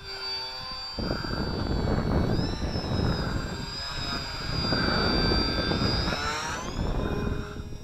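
An XK DHC-2 A600 electric RC airplane flies close, its high motor whine rising and bending in pitch as it passes, with propeller and wind rush loud for several seconds before easing.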